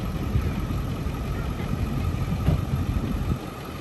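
Ford Excursion 7.3 diesel engine running at the beach, a low steady rumbling idle with a rough clattering texture, moderately close and without talk.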